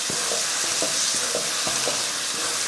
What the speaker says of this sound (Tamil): ஆஃப் பண்ணிவிட்டு இதை கலந்து விட்டுறலாம்